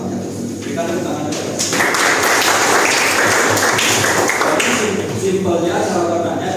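Students in a Japanese language class clap their hands together, and a broad burst of applause swells a couple of seconds in and fills the room at close range while a voice keeps talking alongside.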